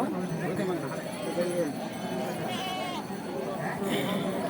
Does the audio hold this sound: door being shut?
no